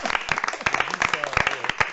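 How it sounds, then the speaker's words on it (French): Workshop participants at a LEGO Serious Play session applaud themselves, a brief burst of close, uneven hand claps mixed with talking voices. "Vous pouvez vous applaudir."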